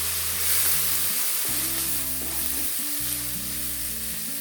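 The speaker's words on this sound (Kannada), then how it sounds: "ಹಾಗೆ ಕೊತ್ತಂಬರಿ ಸೊಪ್ಪು 1/4 ಕಪ್ಪಷ್ಟು ಹಾಕ್ಕೊಂಡು ಚೆನ್ನಾಗಿ ಹುರ್ಕೋಬೇಕು" Chopped greens and about a quarter cup of coriander leaves fry in a pan for avarekalu chitranna, a soft, steady sizzle under louder background music.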